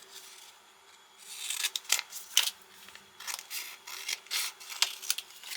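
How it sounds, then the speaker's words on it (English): Scissors snip and rasp through material close by, a series of irregular cuts and rubbing sounds over a quiet background hum. "take my scissors and trim it down"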